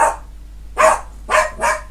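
Dogs barking outdoors at night, four sharp, fairly close barks in an uneven rhythm, with short quiet gaps between them.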